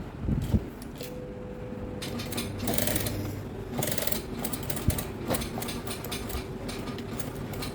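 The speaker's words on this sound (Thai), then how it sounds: "ก่อนที่เราจะเลาะนะคะ เราเย็บย้ำไว้ก่อน" A sewing machine stitches back and forth to reinforce a garment's side seam before it is unpicked, giving a steady close mechanical whir with short stops and restarts and a few clicks, with no talking.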